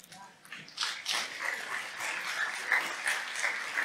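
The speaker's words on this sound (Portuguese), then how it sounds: "Aplauda o Senhor, Ele merece todas as coisas." A church congregation applauds, with scattered clapping mixed with shouts and voices, fairly faint and building after a quiet start.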